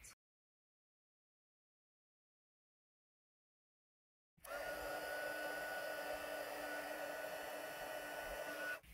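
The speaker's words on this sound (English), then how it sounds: "I'm going to heat it and emboss it in white" A heat gun blows a steady, loud whooshing roar while it melts white embossing powder on a papercraft card. The gun starts abruptly after about four seconds of silence and then runs continuously on its own.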